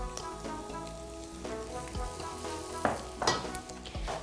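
Minced garlic sizzles in butter with salami in a pan for a corn seafood chowder, a soft steady crackling fry with occasional stirring scrapes, quiet and close, with background music underneath.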